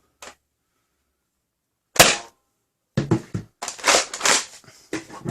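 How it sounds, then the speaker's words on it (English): Nerf Hyper Siege-50 blaster firing, a sharp pop followed by a louder shot, then a quick string of snappy mechanical shots and rattles, close and loud with no talk. "But let's just shoot one or two."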